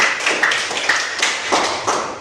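A school class claps for a presenting group, a quick, fairly loud patter of hand claps with no talking.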